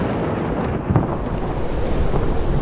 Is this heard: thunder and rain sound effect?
yes